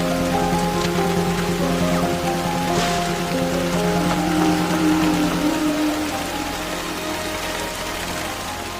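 Heavy rain pours down in a forest as a steady, dense hiss that runs unbroken throughout, with tonal music-like bands layered over it.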